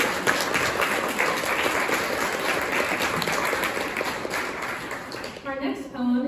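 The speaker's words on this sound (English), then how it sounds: "We'll give her a round of applause." Audience applause after an art song performance, a steady wash of many hands clapping that holds loud and even before thinning out, with a few voices surfacing near the end.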